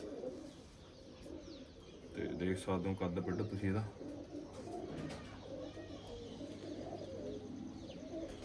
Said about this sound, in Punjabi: ਵੱਡੇ ਕਬੂਤਰ ਨੇ ਇੱਧਰ